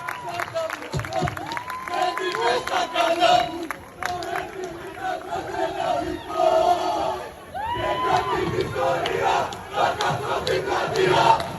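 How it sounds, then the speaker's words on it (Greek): A crowd at a karaoke event cheers, shouts and applauds loudly in repeated swelling bursts, with whistles and excited voices rising over the noise. "Ένα τεράστιο χειροκρότημα για τους PRT."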